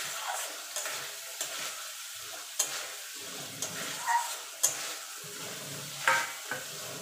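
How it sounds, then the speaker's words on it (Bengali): Pointed gourd stirred into a spice paste frying in oil sizzles steadily while a spoon scrapes and clacks against the pan in irregular strokes, close and fairly loud, with no talking. "এবার পটলটা দিয়ে দেবো, দিয়ে ভালো করে মিশিয়ে নেব।"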